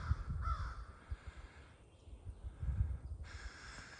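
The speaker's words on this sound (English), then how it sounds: "There's definitely a crow going off." Crow cawing repeatedly in an East Texas pine forest, moderately distant, in short bursts separated by gaps, over low wind and ambient rumble.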